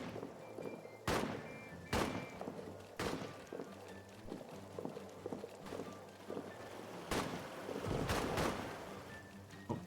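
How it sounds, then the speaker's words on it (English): Grenades explode in a World War I trench battle in All Quiet in the Trenches, sounding as a series of dull, thudding blasts spaced a second or two apart over a low battlefield rumble. "I hear more grenades going off."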